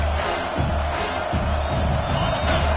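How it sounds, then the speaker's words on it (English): Football stadium crowd roaring behind the home defense during a red-zone stand, a continuous broad cheer with rising swells and scattered whoops, loud throughout. "The crowd getting behind this defense as they try to get a stop in the red zone."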